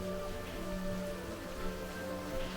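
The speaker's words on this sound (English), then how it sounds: "It's very rainy today." Steady rain falls outside a temple in Nara, Japan, a continuous even wash of drops heard from a covered veranda, with no voices.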